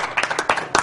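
Studio audience clapping during a live Mirror's Edge speedrun at a charity gaming marathon, a brief burst of applause with scattered claps rising and falling over less than a second.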